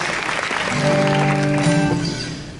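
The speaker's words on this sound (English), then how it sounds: "How about a big round of applause for our amazing host tonight?" A concert audience applauds the host of an evening music show in a steady, close wash of clapping, with a sustained whooping cheer over it.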